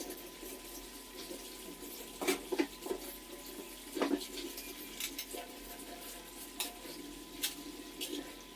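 Biryani masala being stirred and roasted in a pan in a village kitchen, heard as soft scraping and intermittent clinks of a spoon against metal over a faint background hum, quiet and close.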